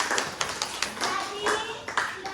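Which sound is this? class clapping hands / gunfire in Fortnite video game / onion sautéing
class clapping hands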